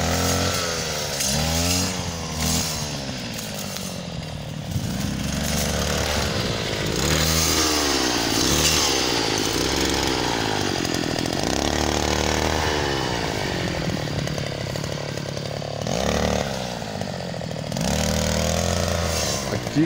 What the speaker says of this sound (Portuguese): Agora batendo a roçadeira, ó.